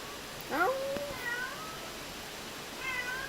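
A cat meows several times during a horror game birthday stream: one clear rising, wavering cry near the start, then fainter, shorter mews later, set against a low steady background hiss.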